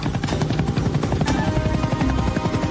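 A cartoon helicopter approaches in a Tamil-dubbed Motu Patlu episode, its rotor chop a steady, loud rhythmic beating that fills the whole stretch, mixed with a busy score.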